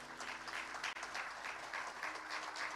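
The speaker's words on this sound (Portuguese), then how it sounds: "Dê um aplauso bem forte ao Senhor." Congregation in a church service applauding, a steady, dense wash of many hands clapping at even loudness throughout, with no voices over it.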